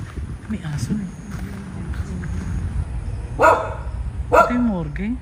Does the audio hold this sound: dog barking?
yes